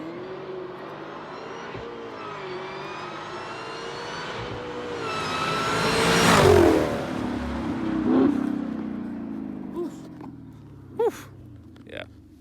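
A 2018 Camaro ZL1 fitted with a new aftermarket intake revs up, climbing to a loud peak mid-clip before falling back. A few sharp exhaust pops follow near the end.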